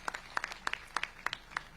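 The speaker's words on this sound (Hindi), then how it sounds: "बहुत जोरदार एक बार तालियों से" A crowd welcomes a speaker at a village development meeting with the Chief Minister. Only faint, sparse claps come through, a few distinct, evenly spaced hand claps that sound distant and quiet.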